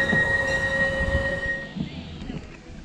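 Small tourist train at Ecoland on Jeju Island rumbling past, with steady tonal wheel whine over low rolling noise that fades out over a few seconds.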